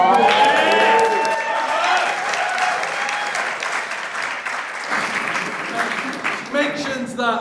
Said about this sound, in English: So can we get a bit of an round of applause?